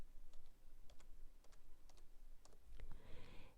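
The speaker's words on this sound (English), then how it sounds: "So let me type in his last name." Typing on a computer keyboard while searching an online library catalog: a few bursts of light, quick keystrokes, close and fairly quiet, with no talking.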